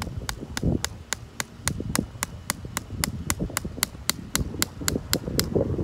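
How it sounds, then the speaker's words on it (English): A Leatherman Signal multitool's hammer drives a stake into the ground, about twenty sharp evenly spaced metallic strikes landing roughly every quarter second, close and loud over faint background rustle. "the hammer works well on this as well for driving stakes"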